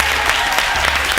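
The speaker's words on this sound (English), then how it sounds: "A round of applause for our guest judge." A brief, loud burst of dense studio audience applause for a guest judge on a leadership television show, the clapping steady and close throughout.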